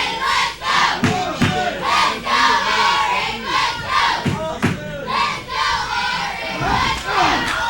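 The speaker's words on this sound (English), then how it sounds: "We hear a lot of chants for Eric Lane." Wrestling event crowd chanting for Eric Lane, a rhythmic, repeated chant with accented beats, loud and continuous throughout the arena.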